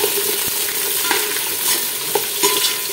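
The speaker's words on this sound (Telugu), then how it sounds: "పెట్టుకొని బాగా ఎర్రగా వేగనివ్వాలండి ఉల్లిపాయలు" Onions and green chillies fry in a pan, giving a loud, steady sizzle close by with occasional scraping stirs and light knocks.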